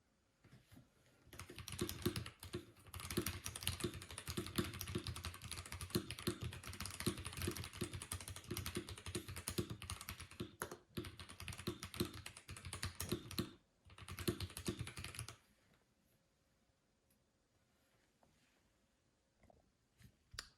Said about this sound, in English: I'm going to do a quick benchmark decibel test using this keyboard